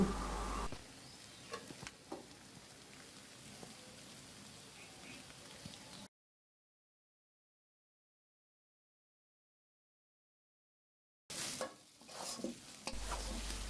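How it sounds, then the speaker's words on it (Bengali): A spoon stirs egg semolina halwa after ghee is added, giving soft scraping and sizzling close by, then a stretch of silence before the stirring resumes. "ঘি দেওয়া হয়ে গেলে চামচ দিয়ে খুব ভালোভাবে নেড়ে চেড়ে অনবরত মিশিয়ে নিচ্ছে"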